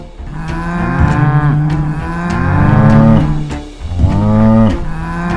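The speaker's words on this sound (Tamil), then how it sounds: "திரும்பி பார்த்தா பின்னாடி ஒரு மாடு வேகமா வந்துகிட்டு இருக்குது." A cow moos loudly and close by, three long, deep, drawn-out calls with rising and falling pitch filling the whole stretch.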